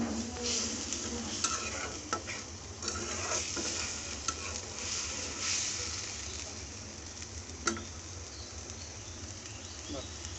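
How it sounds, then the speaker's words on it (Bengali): Masala with onion paste frying in oil, giving a dense, continuous sizzle and hiss with scattered stirring scrapes, steady and close throughout. "আমাদের মশলা কষাতে 3-4 মিনিট লাগবে"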